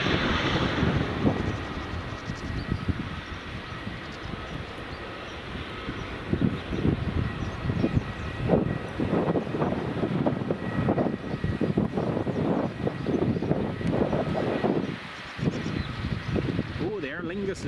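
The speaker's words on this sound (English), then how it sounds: "Loganair just rolling down the runway" A Loganair airplane rolls down runway 24 at Edinburgh Airport in the early morning, its engine roar rising and sustained from a distance while people talk nearby throughout.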